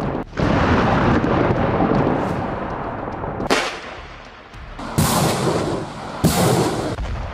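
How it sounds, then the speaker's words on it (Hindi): Hezbollah missiles striking an Israeli military transmission center in the Al Bayad area, heavy rumbling blasts with several sharp explosive bursts over a continuous roar, loud and booming. "हिजबुल्लाह की मिसाइलें इजराइल मिलिट्री के ट्रांसमिशन सेंटर पर गिरी।"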